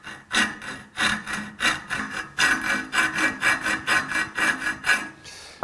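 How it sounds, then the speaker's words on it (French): Hand file rasping a flat onto a chrome steel tube, in about a dozen steady back-and-forth strokes, close and fairly loud, no voices. "Et ce plat, je le fais à la lime"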